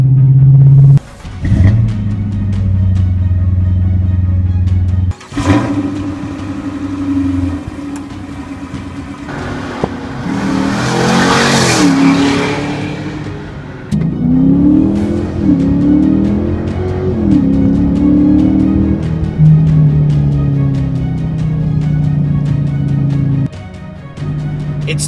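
V8 car engine starts with a deep rumble, then revs repeatedly through a burst of sharp throttle blips and settles back to a lumpy, throbbing idle, loud and close throughout.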